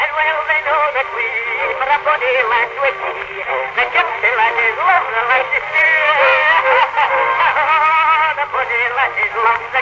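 An old phonograph replays a recorded voice of a singer, sounding thin and boxy with a constant hiss beneath the continuous vocal.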